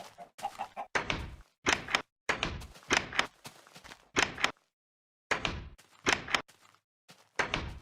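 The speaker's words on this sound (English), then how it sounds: "This meant the chest at the time used to use the old door sound when you opened and closed it." Old Minecraft beta 1.8 chest opening and closing with the legacy wooden door sound, a series of sharp creaky thunks in quick pairs separated by short gaps, clear and alone.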